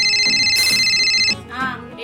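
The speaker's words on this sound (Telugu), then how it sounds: "ఫోన్ రింగ్ అవుతుంది, ఎవరో చూడు" A phone ringtone plays loud, bright and repetitive for about a second and a half, then cuts off, followed by a short snatch of voice.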